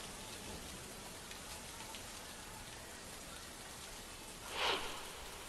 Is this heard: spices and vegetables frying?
no